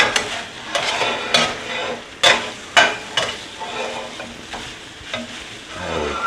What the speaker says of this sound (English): making something just out of basic cheese in a hot pan. Kind of their version of fried cheese